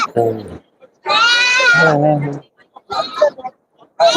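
Loud, close bleating from sheep, several drawn-out wavering calls with pauses between, amid the noise of the Ettayapuram Saturday goat market.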